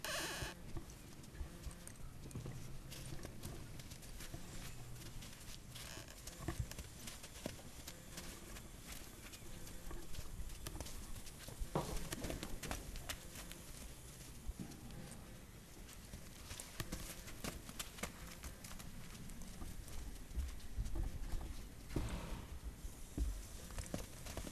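Horse's hooves during a training session in a pen, faint irregular clip-clop steps and shuffling on the ground over a long stretch, quiet and somewhat distant with scattered handling noises.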